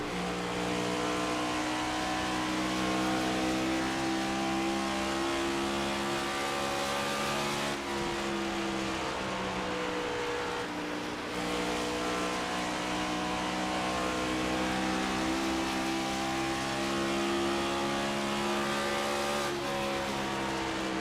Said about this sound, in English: How about we take a lap uninterrupted from the front end and see how it is for Adam Bozzi.